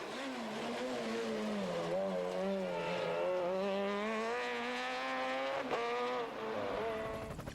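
A Super 2000 rally car races through a Monte Carlo stage of the 2009 Intercontinental Rally Championship, its engine note climbing and dipping with gear changes in a loud, continuous whine close by.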